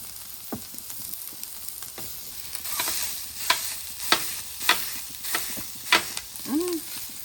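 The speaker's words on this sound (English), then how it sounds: "I'm gonna start off that chorizo. I'm just gonna look to brown it off." Chorizo sizzles and browns on a flat-top griddle for a breakfast bowl, a steady frying hiss broken by a series of regular, close scraping strokes from a spatula stirring and breaking up the meat.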